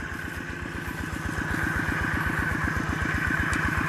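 A small engine-driven water pump runs steadily nearby with a fast, even mechanical chugging, loud and continuous throughout with no talking.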